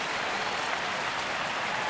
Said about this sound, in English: The crowd starts to erupt a little bit, trying to get him through this inning.